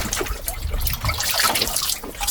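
Close, steady rush and trickle of flowing sea water out at sea, continuous and fairly loud across the brief moment.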